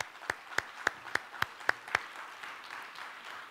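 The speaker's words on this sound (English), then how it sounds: "Let's give them a warm applause" Applause for panelists walking onto a summit stage begins with about seven distinct, evenly spaced claps and then fades into a softer, diffuse patter of scattered clapping from a modest audience.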